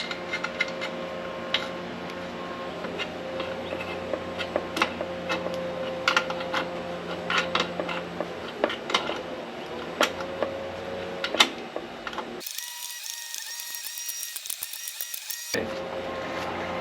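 A 1983 Honda Magna cafe racer's brake lever is tightened down with a ratchet tool, giving rapid, close, steady clicking throughout, with no talk.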